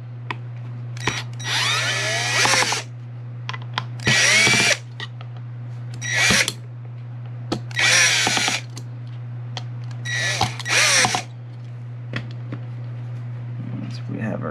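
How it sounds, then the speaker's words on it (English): Power drill backing screws out of a Lenovo M92p desktop computer case, with several short whirring bursts of a second or two separated by pauses, close and loud, alongside a low constant hum. "Let's get our better drill out here."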